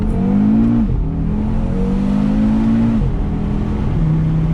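A 400 hp Audi RS3 accelerating hard on a country road, its engine note climbing steadily through the gears with brief drops at each shift, loud and close throughout.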